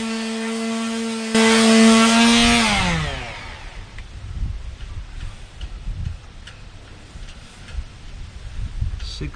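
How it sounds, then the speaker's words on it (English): Power sander working over Sikaflex sealant on a wooden Tahiti gaff cutter sailboat, a loud steady whine that winds down after a few seconds, followed by softer scraping and rustling handling noise nearby. "We're going to sand over it and kind of start over"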